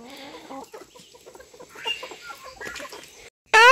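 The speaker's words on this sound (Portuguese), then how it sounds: "Tem essas galinhas aqui ainda." Chickens cluck and call in a home yard on a Sunday afternoon, a scatter of close, moderate clucks and squawks throughout, ending with a sudden loud squawk.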